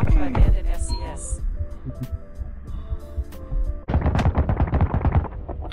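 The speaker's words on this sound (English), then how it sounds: "That's a gun." Gunshots in the video game Boundary, a few sharp reports over a humming, throbbing game backdrop, with a denser burst of noisy activity toward the end.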